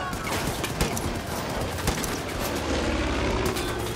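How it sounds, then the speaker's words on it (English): Dense gunfire and explosions rumble in the video game Far Cry 5, a steady loud barrage of rapid shots and booms with no pauses across the few seconds. "I'm gonna drop a bomb on these guys."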